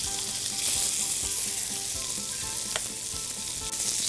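Meatballs fry in a hot pan on a stovetop burner with a steady, close, continuous sizzle and crackle that stays loud throughout, with no one talking.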